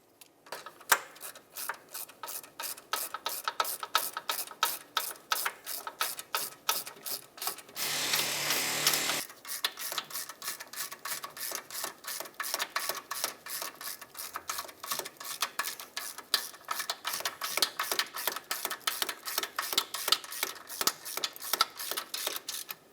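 A ratchet drives the hub assembly bolts home on a 2007-2017 Jeep Compass during a rear wheel bearing replacement, a long fast train of close, regular clicks broken once by a brief burst of harsher grinding, with no talking.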